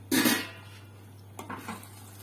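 A metal colander is picked up and handled in a home kitchen during cabbage roll preparation, giving one loud clatter at the start and a few lighter knocks and scrapes afterward over a steady low hum.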